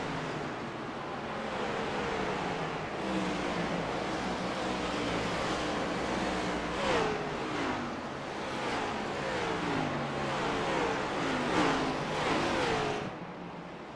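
Stock cars lapping Richmond Raceway in a racing video game, a steady layered engine drone with repeated passing whooshes and pitch sweeps that rise and fall throughout, ending abruptly near the close.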